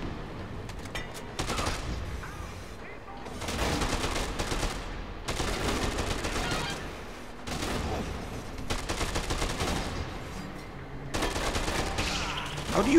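Automatic gunfire in Dead Rising 2 rattles in long, loud bursts separated by brief pauses, each volley a dense continuous clatter of shots.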